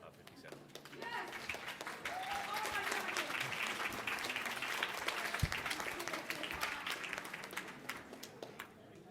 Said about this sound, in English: I thank you for the applause for the great job I'm doing